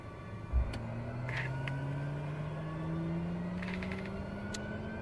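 TBM 850 turboprop engine settling to low idle in Microsoft Flight Simulator 2020: a steady turbine whine with tones slowly rising in pitch over a low rumble, a soft thump near the start, no talking.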